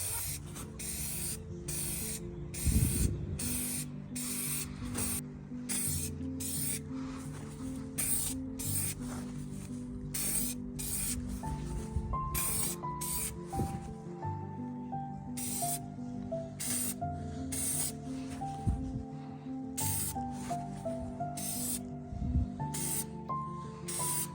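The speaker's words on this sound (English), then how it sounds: "So I'm spraying them outside for the most part" Repeated bursts of aerosol spray paint hiss, short and long, in an uneven rhythm, sprayed onto alloy wheels outdoors, with a faint tonal hum running underneath.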